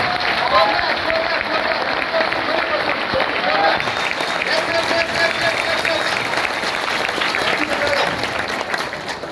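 An audience at a direct-selling business seminar applauds, a steady, dense roar of many hands clapping for several seconds with cheering voices mixed in.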